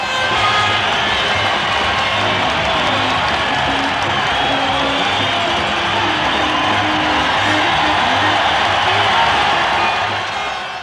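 A capacity crowd of 16,000 at Madison Square Garden, New York, roars with sustained cheering and applause, a loud, dense wall of voices and clapping that holds steady throughout.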